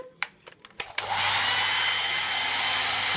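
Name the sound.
hair dryer running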